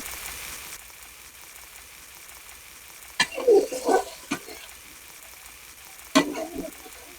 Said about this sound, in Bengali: এখন আমি দিয়ে দেবো সামান্য পরিমাণে পানি